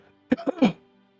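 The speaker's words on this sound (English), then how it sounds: "give a loud, hard cough" A single loud, hard cough bursts out in two or three harsh, throaty pulses close up, then the surroundings fall quiet.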